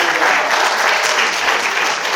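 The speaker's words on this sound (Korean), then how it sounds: "박수 한번 드리겠습니다" Loud, dense applause from a congregation at a Korean church training lecture for evangelists, a continuous close wash of clapping with no break.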